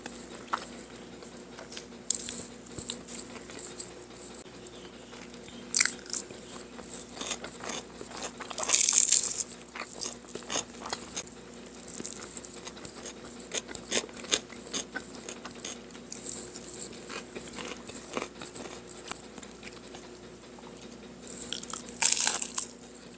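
Crunchy fried tempe is chewed close to the mouth, giving irregular crisp crackles and bites in scattered bursts over a low steady background hum, with a few louder crunching clusters.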